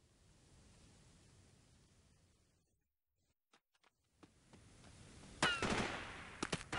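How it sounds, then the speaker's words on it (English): Sporadic enemy gunfire in Delta Force 2, faint and distant at first, then a few sharp isolated shots and louder bursts toward the end over a low background hiss. "Some folks started shooting at us, like the one right there."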